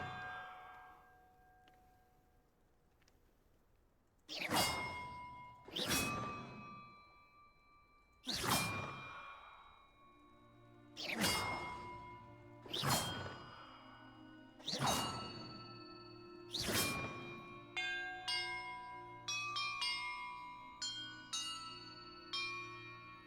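Bells struck in sequence during a bell-ringing puzzle in Hogwarts Legacy, a video game: a dozen or more bright clanging tones, evenly spaced at first and then quicker and overlapping near the end, each with a ringing tail, and no voices.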